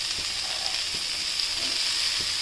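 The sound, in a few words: two big tomatoes sizzling as added to frying pan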